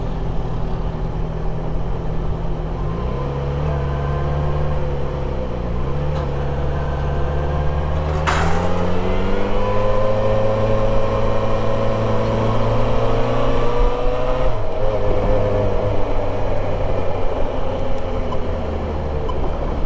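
Off-road vehicles revving hard while tearing up dirt down to bedrock, a loud continuous engine drone with pitch rising and falling as throttle changes throughout.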